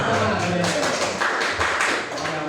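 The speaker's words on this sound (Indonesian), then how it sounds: "Tepuk tangan dong." Audience clapping at a school teachers' training session, a close, busy patter of hands sustained for a few seconds, with some voices mixed in.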